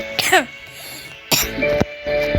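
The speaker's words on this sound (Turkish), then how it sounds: "Bu yüzden videoda çok öksürüyorum." A man with a cold coughs in short harsh bursts, one near the start and two more about a second later, loud and close to the microphone with no talk between them.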